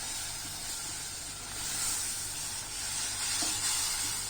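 Fresh tomato puree sizzles and hisses in a hot pan on a medium flame while being stirred, a close, steady frying sound with faint scraping and no voices.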